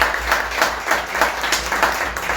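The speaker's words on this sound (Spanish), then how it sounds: "le damos un aplauso grande" Audience applause at a book presentation about Córdoba, a steady wash of many hands clapping throughout, fairly close and full, with no talk over it.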